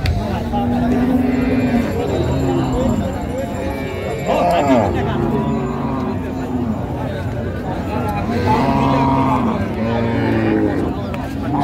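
Cattle at a busy village livestock market in Dinajpur, with cows and calves giving long low moos that repeat several times over constant crowd chatter and nearby talk.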